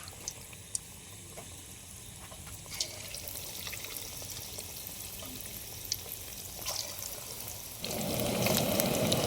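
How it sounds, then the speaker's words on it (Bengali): Chicken pakoras fry in hot oil with a soft, continuous sizzle and faint crackles, growing louder and fuller near the end, with no talk. "আমাদের ভাজা পুরো কমপ্লিট চিকেন পকোড়া"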